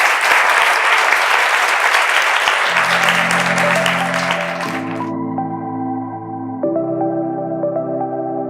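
An audience claps loudly for about five seconds after a university lecture on state spending, then the clapping cuts off and sustained musical tones take over.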